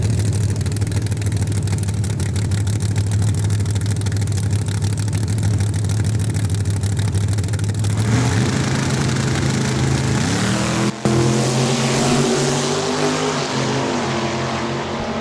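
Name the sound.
drag race of Pontiac Acadian and 1966 Chevelle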